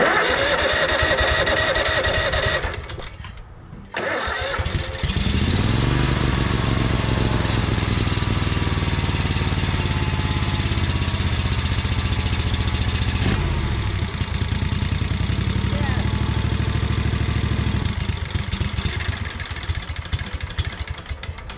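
A Yazoo Kees ZT Max zero-turn mower engine runs loud and steady, catching after a brief dip early on, then holding a rough mid-pitched drone with small surges before it cuts out near the end.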